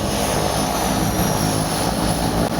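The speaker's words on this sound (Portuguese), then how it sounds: "A aeronave reduziu, taxiou com calma e parou no pátio" Fixed-wing propeller aircraft taxiing slowly toward the parking apron at São Luís airport after slowing down, a steady, loud, continuous engine drone close by with no talk.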